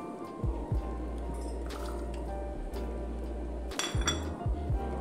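Falsa berries being washed in an open bowl for a sharbat drink, with scattered clinks and knocks of the vessel over a steady low hum, a few sharper clatters bunched near the middle and end.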